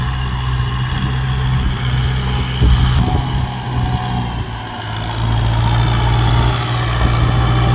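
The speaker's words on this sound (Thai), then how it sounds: "กำลังเครื่องยนต์ไม่ตกเลยครับ" A Kubota M6040SU tractor pushes a soil-leveling blade, its diesel engine holding a steady low rumble close by, with a brief surge under load midway and no speech.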